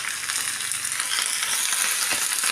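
Drumstick leaves (murungai keerai) with rock salt stirred in a hot pan, a steady loud sizzle and frying hiss with faint scraping throughout, no talking.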